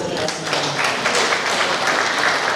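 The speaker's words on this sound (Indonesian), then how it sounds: "Tepuk tangan dulu untuk kita semua." Steady applause fills a hall during a formal regency council plenary meeting marking the district's anniversary, a continuous wash of many hands clapping with murmurs beneath.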